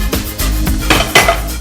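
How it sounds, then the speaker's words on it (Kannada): Pressure cooker set down in a home kitchen, a few close metallic clunks and clanks of the pot against a surface, loud and spaced unevenly over a moment. "ಈಗ ಒಂದು ಕುಕ್ಕರ್ ಇಟ್ಕೊಳ್ಳೋಣ"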